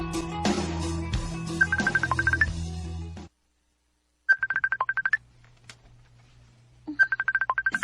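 A phone rings with an incoming call, a repeated electronic trilling ringtone in bursts separated by pauses, following a stretch of background music and sound that cuts to silence.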